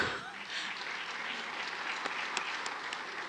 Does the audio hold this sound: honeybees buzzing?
no